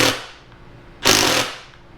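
A Milwaukee FUEL 2953-20 impact driver setting a screw into wood: two short, loud bursts of rapid hammering impacts about a second apart, each lasting a fraction of a second before cutting off.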